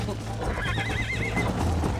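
A horse in the Western video game Red Dead Redemption gives a loud, wavering whinny over steady clip-clop hoofbeats and game ambience, close and prominent for about a second.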